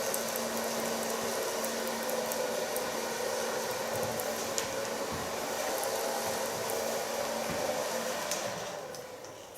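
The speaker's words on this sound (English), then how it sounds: "So far blow drying." A hair dryer blows steadily on short platinum blonde pixie-cut hair in a salon, a continuous close whooshing roar with no talking, easing off slightly at the very end.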